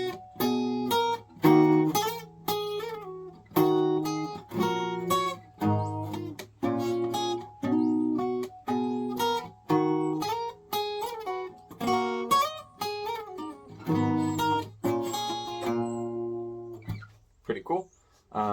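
An acoustic-toned guitar hybrid-picks a song's chorus, following the vocal line closely with quick plucked notes and bright chord stabs in a bouncy, steady rhythm, heard alone.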